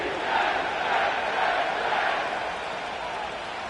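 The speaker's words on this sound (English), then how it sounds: "The crowd is definitely ready." A big stadium crowd at MetLife Stadium roars and cheers continuously in Madden 25 football, a dense, loud, sustained wash of noise that eases slightly toward the end.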